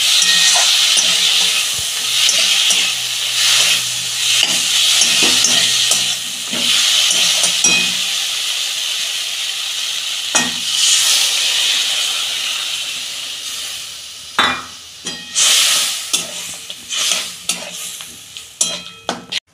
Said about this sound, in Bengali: একটু নেড়ে চেড়ে আমি জল দিয়ে দেবো পরিমাণ মতো, অল্প দেবো, বেশি দেবো না, এগুলো ভাজা আছে তো